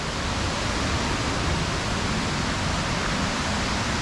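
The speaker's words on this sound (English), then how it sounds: "just going to show you what this waterfall looks like" The Wheel of Fire waterfall in Finch Hatton Gorge roars as a steady, dense rush of falling water, loud and close, with no let-up and no voices over it.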